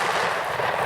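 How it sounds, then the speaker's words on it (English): A shotgun blast during a bird hunt rings out as a single loud, close, broadband report that fills the whole moment with no talk over it. "Good shot, Jimmy."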